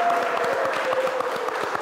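Applause from a studio audience on a Malaysian automotive TV programme, a steady dense patter of many hands clapping together at moderate level, with no talk over it.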